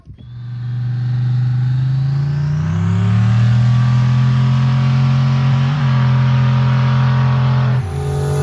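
A 1995 Ford Mustang with a boosted 302 V8 and the boost turned down revs up loudly and holds a high, steady drone, rising in pitch before easing back, close by with nothing else heard.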